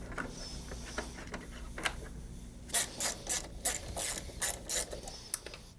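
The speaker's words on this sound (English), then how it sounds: "we're going to go ahead and remove this bolt" Quiet wrench work loosening a 10mm bolt on a body panel of a 2017-2020 Honda Grom motorcycle, heard as faint scraping at first, then a run of close, rhythmic ratcheting clicks in short bursts.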